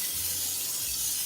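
A can of cooking spray released in a kitchen, a single short, soft hiss lasting about a second, close and quiet.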